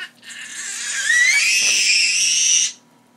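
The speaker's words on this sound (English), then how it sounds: "Teach him how to scream." A young child lets out one long, loud, high-pitched scream lasting about two and a half seconds, rising in strength, close up and with no talking over it.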